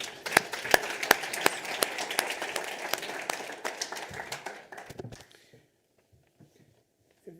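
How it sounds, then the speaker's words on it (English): A conference audience applauds a speaker with sparse, distinct claps from a modest crowd, close and uneven, lasting about five seconds before stopping and leaving near silence. "So let's give him a big round of applause."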